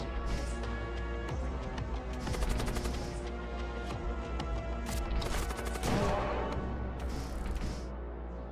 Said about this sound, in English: A demon-possessed starship emerges on your flank and opens fire.